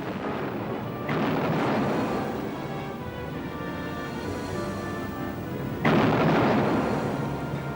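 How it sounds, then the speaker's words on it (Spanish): Heavy naval artillery salvos from British ships firing at the battleship Bismarck sound as two deep booming blasts a few seconds apart, each rolling into a long rumbling echo, with no voices over them. "los barcos británicos se acercaron primero a 4 millas y luego a 3 mientras disparaban salva tras salva"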